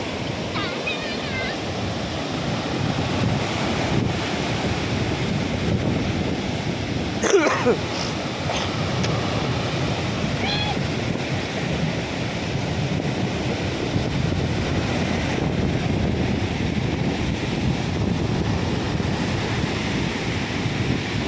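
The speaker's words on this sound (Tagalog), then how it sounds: "There he comes! The bigger waves!" Big ocean waves break and surge at a beach in a steady broadband roar, with wind buffeting the microphone and voices calling out over the surf.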